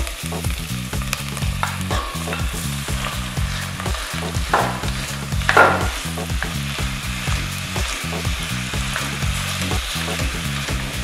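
Peas and meat sizzle in a hot pan for Sicilian ragù, a dense, loud frying hiss with steady rhythmic stirring strokes scraping through the mixture.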